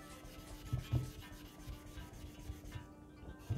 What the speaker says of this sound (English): So we rub the Nagura on the main stone